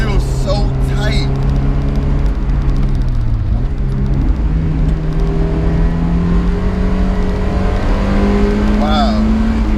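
A 1990 Mazda Miata NA hums along at a steady pitch while driving, its engine tone holding then gradually climbing, with a person talking over the cabin drone.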